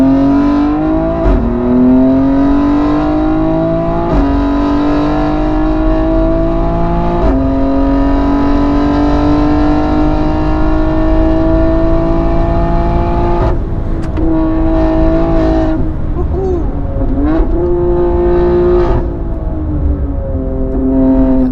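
A 710hp BMW X3M engine accelerates hard on the Nürburgring, a loud, sustained in-car roar whose pitch climbs through the gears with brief dips at each shift.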